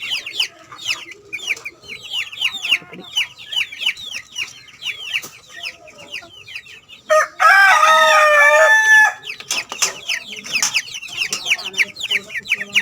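Chickens, including white Leghorn hens and some chicks, cluck and chatter as they are let out of a coop after rain, with a loud rooster crow rising in the middle and a voice speaking briefly.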